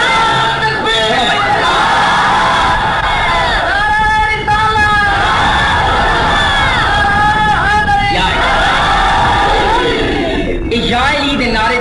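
Large crowd at a religious gathering of Pir Jaggi Sharif roaring slogans in unison, loud sustained massed voices with rising shouted bursts repeating across the whole stretch.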